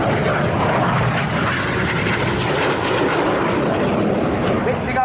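A display jet pitches up trailing colour smoke, its engine a loud, sustained roaring rush that stays constant throughout, with no break or fade.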